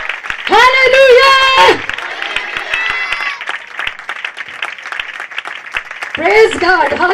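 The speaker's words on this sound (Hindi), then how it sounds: "खुदा के जलाल के लिए भरपूर ताली बजाएंगे।" An audience applauds during a Hindi-language church service. Clapping runs steadily under loud, sung-out speech from a preacher, with the voice rising at the start and end.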